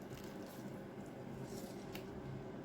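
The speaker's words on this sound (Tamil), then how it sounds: "இதில் இருக்கிற தண்ணியை நல்லா பிழிஞ்செடுப்போம்" Wet squishing and faint dripping as grated snake gourd is squeezed by hand to press out its water, steady and close, with no talking.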